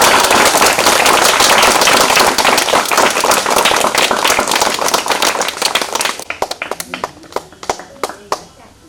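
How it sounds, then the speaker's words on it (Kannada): An audience at a birthday function for a special school claps loudly together, a dense sustained roar of applause that thins into scattered separate claps near the end, close and alone without talk. "ಚಪ್ಪಾಳೆ ಮಾಡ್ರಿ ಜೋರಾಗಿ"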